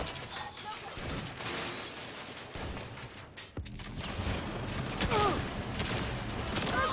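Sniper gunfire in a Saints Row ambush at a legal office, heard as dense, continuous shooting and clatter with sharp cracks, close and busy throughout, while voices talk over it.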